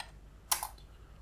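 A few quick keystrokes on a computer keyboard, one short clattering burst of clicks, close and fairly quiet, alone against a soft background hum.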